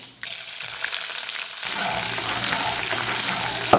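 Chopped large onion dropped into hot oil with mustard seeds and curry leaves for a fennel kurma, a sudden burst of loud sizzling that swells and stays steady and close.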